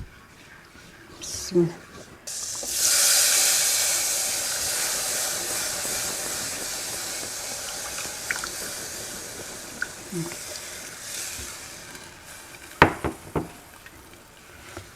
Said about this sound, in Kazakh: Сүтіміз қайнайды.